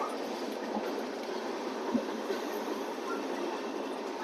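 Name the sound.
Tejas Rajdhani Express train standing at platform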